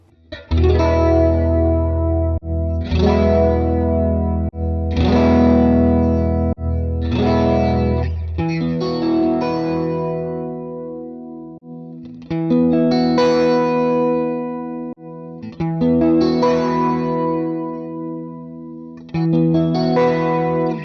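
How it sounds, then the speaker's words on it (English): Electric guitar chords through a Valeton GP-200's chorus effect, ringing out with a shimmering, swirling sound, strummed in slow repeated phrases with sustained, wavering tails and no talking. "Let's add a chorus sound."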